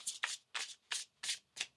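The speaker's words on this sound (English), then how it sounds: "One more shuffle." A tarot card deck is riffled repeatedly by hand, five or six quick papery bursts in a steady rhythm, close and crisp in a quiet room.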